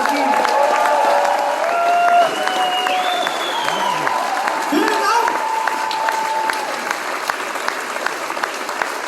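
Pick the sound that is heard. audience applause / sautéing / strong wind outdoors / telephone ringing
audience applause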